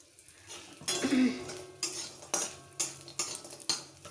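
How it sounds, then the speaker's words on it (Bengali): Dried lentil dumplings (bori) go into hot oil in a pan, with a few soft sizzles and a run of sharp metal utensil clinks and taps against the pan at close range. "বড়িগুলো তেলে ভেজে নেব"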